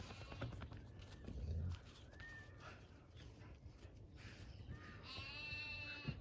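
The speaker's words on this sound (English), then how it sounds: "Oh no, that's a sheep." Sheep bleating in fog on a farm, a few wavering calls at moderate distance over steady low rumble and background noise, with one louder bleat near the end.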